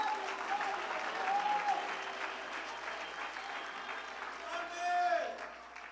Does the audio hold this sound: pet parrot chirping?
no